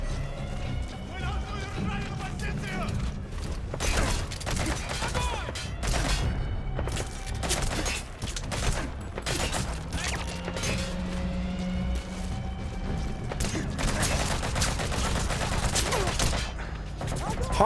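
Scattered gunshots crack repeatedly in the stealth-action game Metal Gear Solid, bursts of sharp reports spread irregularly over footsteps and background sounds, with voices talking throughout.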